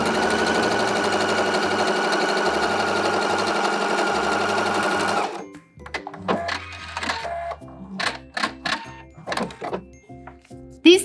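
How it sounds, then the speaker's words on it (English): A sewing machine fitted with a Teflon foot stitches vinyl fabric, a steady rapid mechanical whirring and thumping for about five seconds, then slowing into irregular clicks, clunks and short bursts of stitching. "I'm gonna show you real quick how easy it sews over the vinyl."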